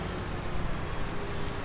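Rain falling in Farming Simulator 19 on a marsh farm map in late autumn, a steady dense hiss of rainfall with no talk.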